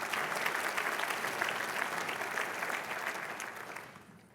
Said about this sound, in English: So if we could give a round of applause for the OFN team.